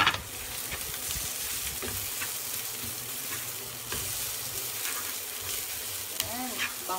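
Garlic and onion sauté in a hot pan, a steady sizzle and crackle with occasional stirring scrapes. It runs continuously and close throughout, with no talking.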